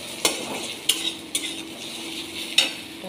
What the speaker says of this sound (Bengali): হচ্ছে চিচিঙ্গে ভাজাটা প্রায় ডান